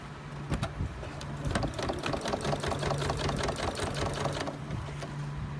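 A sewing machine stitches a small bag made from fabric scraps, running in a fast, even mechanical patter at close range after a few stop-start clicks, then halting near the end.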